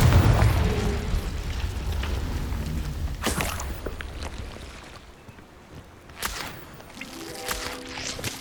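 Explosive blasts from the Confringo curse in Hogwarts Legacy, several sharp booming bursts with crackling tails spaced over a rumbling, whooshing game soundscape, loud and close.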